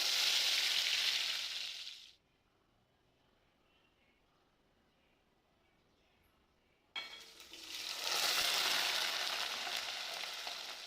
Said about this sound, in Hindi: मस्टर्ड ऑयल में मैंने यहाँ पे कालन जीरी और सौंफ थोड़ा सा तड़का लगा दिया है